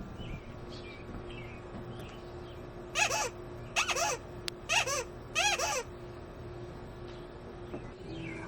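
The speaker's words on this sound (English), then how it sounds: "This one even came with a mystery horn that turned out to be a Sumo Squeaky." A Sumo Squeaky bicycle horn gives four squeaks in quick succession: short, bright and honking, standing out over a low background hum.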